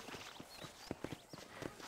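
Horse hooves in the video game Red Dead Redemption, a quiet, uneven clip-clop of a few soft hoof strikes at a walking pace.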